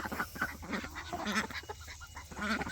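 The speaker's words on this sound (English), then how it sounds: "Okay, duckies will get in there and find them." Ducks foraging in a freshly turned compost pile, giving soft overlapping quacks and nasal honking chatter, close by and steady throughout, with no talking.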